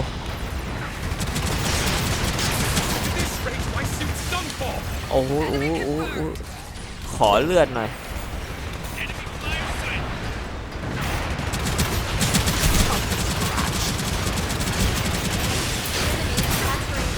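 Cannon fire from an arcing artillery weapon in a Gundam video game booms in repeated bursts under excited talking and exclamations.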